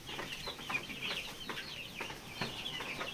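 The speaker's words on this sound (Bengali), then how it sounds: "এই দেশি মোরগ এটা লালটা" Desi rooster, a red one among mixed poultry, making repeated short clucks and squawks over a steady flock murmur, fairly close, with no talking.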